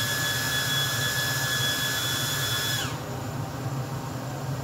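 Oneida Supercell dust collector running at full power beside a CNC machine in a home garage, a steady loud broadband whoosh with a high whine that drops away near the end as the tone changes.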